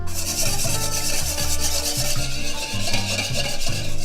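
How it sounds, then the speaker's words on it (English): A whisk beaten vigorously through sauce for champagne poached eggs Benedict, a steady rapid scraping and rubbing rhythm against the pan, close and continuous with no talk. "We're gonna add it and then whisk vigorously for 4 minutes or until it's thickened."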